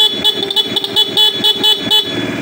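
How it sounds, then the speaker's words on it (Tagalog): A Choi Nori motorcycle horn honks in a rapid series of short, loud bursts, close up and with no talking over it. "So busina mas malakas."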